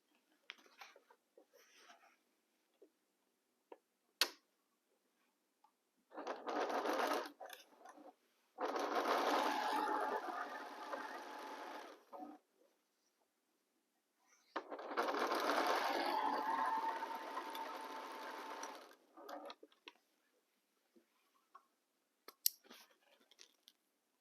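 A sewing machine stitches fabric rectangles together in two long runs of steady whirring, each several seconds, separated by quiet pauses filled with small handling clicks and rustles of cloth.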